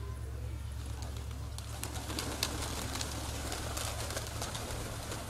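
Pigeons coo steadily through a constant low hum during a pigeon flight on an overcast day, the soft repeated calls running the whole time without any talk.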